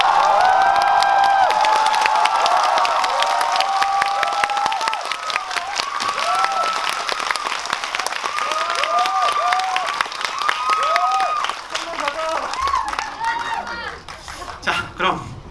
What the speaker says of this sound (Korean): 함성과 박수 한번 보내주세요.